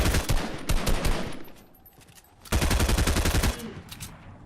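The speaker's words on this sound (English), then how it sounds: "we're definitely hearing a lot of shots here towards the north edge of zone." Rapid SMG and rifle gunfire rattles across a battle royale video game match in two dense, close bursts of automatic shots separated by a quieter lull, with a few scattered shots trailing at the end.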